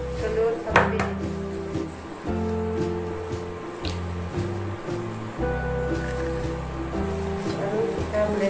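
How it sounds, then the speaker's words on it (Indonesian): Blender chopping moringa leaves for a cake recipe, its motor whirring in repeated short pulses with pauses between them, with voices faintly in the background. "Kita blender daun kelornya."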